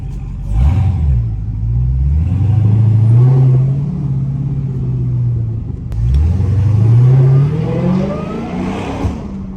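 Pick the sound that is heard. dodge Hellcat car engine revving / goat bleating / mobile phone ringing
dodge Hellcat car engine revving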